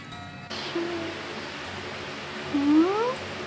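A cat gives a drawn-out meow that starts low and bends upward, preceded by a fainter short mew, heard close against a steady background hiss.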